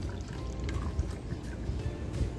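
Disprin-dissolved water poured from a bottle into containers for a plant rooting experiment, a soft continuous trickle and splash at close range, fairly quiet with no talk.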